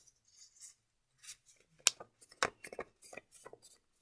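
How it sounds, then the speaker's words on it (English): Paper rectangle folded in half for an origami star, heard as close, quiet crisp creases and soft rustles in short bursts, with no voice over them. "So folding your rectangle, it's nice and open there, folding it in half."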